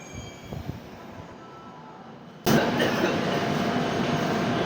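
A Kolkata metro train at Dum Dum station starts as a quiet platform hum with faint clanks, then a loud rushing roar with wheel squeal cuts in about halfway and holds steady until the end.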